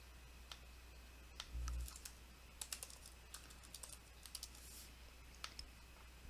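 Typing on a computer keyboard while working in a terminal: quiet, irregular key clicks in short bursts, close by, with no voices.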